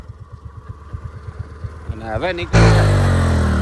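Activa scooter engine stuck in a tight spot idles with a steady low pulsing putter, then rises in pitch as it strains, ending in a loud burst; someone talks over it.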